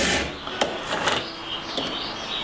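A file rasps across the teeth of a chainsaw chain to sharpen it, giving a few short scraping strokes close by, alone with no talk.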